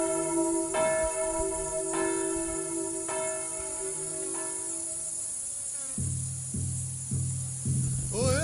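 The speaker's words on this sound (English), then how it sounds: "The bell is back." A deep bell tolls slowly, its strokes spaced about a second apart and each ringing out with a long resonant tail, followed by several lower, heavier strikes near the end.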